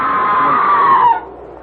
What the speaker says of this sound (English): That was a scream, Sir Leonard. Not the wind playing tricks.